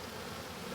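Honey bees buzz at a hive, a brief, steady, close droning hum with no voices.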